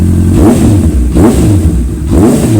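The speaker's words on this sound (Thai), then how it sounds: "ดูรอบการทำงานของเครื่องนิดนึงนะครับเดี๋ยวขออนุญาตเปิดเครื่องนะครับ" A 2017 Honda CB650F motorcycle engine revs up close by in three rising and falling bursts over a steady idle, loud and with no voices.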